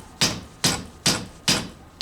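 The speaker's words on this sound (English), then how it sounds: "give it a smack with the hammer" A hammer taps a greased part into its mounting holes on a Suzuki Bandit 1200 motorcycle, giving five sharp, evenly spaced knocks about every 0.4 seconds. The strikes are close and loud, with no talking.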